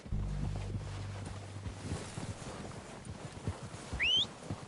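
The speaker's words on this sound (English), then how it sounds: "They're coming down with the horses." Horses' hooves approaching in a Western-style video game, a faint, irregular clip-clop running steadily under wind and low rumble, with a short high whistle-like chirp near the end.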